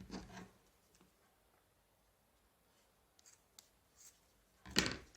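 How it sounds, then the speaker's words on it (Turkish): Scissors snip through material in a few short bursts, a brief cut near the start, scattered small clicks in the middle and a louder, sharper snip at the end, close and alone with no talk. "Ve bunu kesiyorum. Bunu da kesiyorum."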